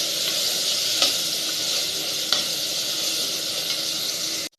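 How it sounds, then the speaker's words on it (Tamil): Onion and tomato sauté in a pan for a dried-fish curry, with a loud, steady sizzling hiss and two brief spatula scrapes, cutting off abruptly at the end. "இது ரெண்டும் சேர்ந்து நல்லா குழையாக வதங்கட்டும்."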